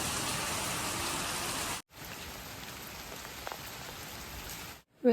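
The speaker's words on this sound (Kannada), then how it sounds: "ಯುಕ್ತ ಮಳೆಯಲ್ಲಿ ಡ್ಯಾನ್ಸ್ ಮಾಡ್ತಿದ್ದಾಳೆ" Steady heavy rain pattering on a surface near Sirsi, a dense even hiss with a brief break partway through, no voices.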